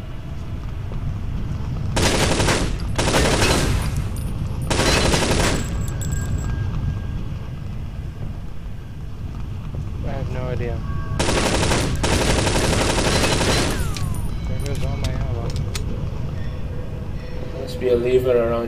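Bursts of automatic gunfire from enemies in the video game Infernal, at a molten-metal steelworks refinery level, coming in loud rapid volleys with pauses, while players talk throughout.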